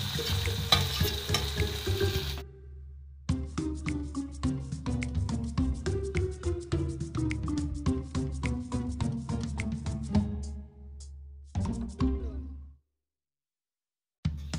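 Onions fry in oil with mustard seeds and urad dal in a pan, giving a dense crackling sizzle with quick popping bursts that cuts out and returns in short stretches.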